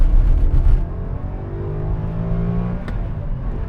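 A 2004 Maserati Coupe GT 4200 with a manual gearbox accelerates past a small village, its engine note rising through a sustained, loud, throaty rev with a brief burst at the start and a sharp crackle near the end.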